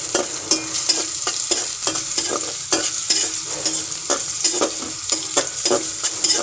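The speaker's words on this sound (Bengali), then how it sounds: "এরপর চিংড়ি মাছ দিয়ে লাল লাল করে বেজে নেব" Shrimp frying in oil with chopped onion, garlic and green chili sizzles loudly in a pan, broken by repeated scraping stirs in an uneven rhythm, close up and with no voices.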